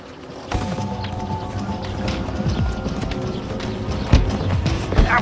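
A horse's hooves clip-clop at a walk close by, a run of irregular thudding steps over a low background hum, with no talk in between.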